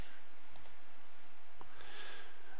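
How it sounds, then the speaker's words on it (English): Typing on a computer keyboard: a few sparse, faint clicks and keystrokes at a distance over low background hum, with no talking. "you can see I type this string of letters and numbers"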